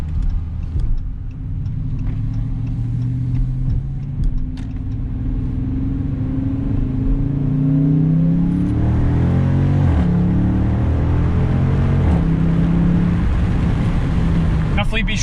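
A Dodge Charger R/T V8 engine revs with a deep rumble as the paddle shifters step through gears, the pitch rising and dropping between shifts, close and steady throughout.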